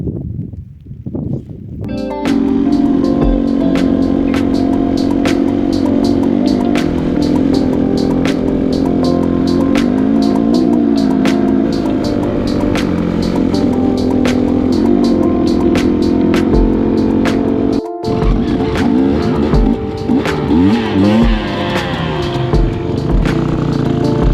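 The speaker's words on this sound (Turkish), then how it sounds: "bugün motor sürmek anlatamam size öyle bir çamur motor yürümüyor" A motorcycle engine labors through thick, deep mud on a Turkish trail course, running loud and close for the whole stretch with a brief cut-out near the end, the revs churning and straining steadily.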